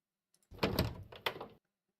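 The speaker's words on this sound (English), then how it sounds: "Why can't I now open the door?" A door opens in the horror video game Skull Hotel, a single muffled clunk and scrape lasting about a second with a second thud near the end, fairly close and alone.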